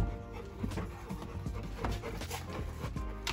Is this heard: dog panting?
yes